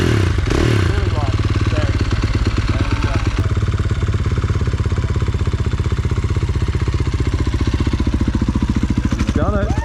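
A motorbike engine runs close at light throttle with a loud, steady, rapid thumping putter, holding an even pace throughout, with a voice speaking over it.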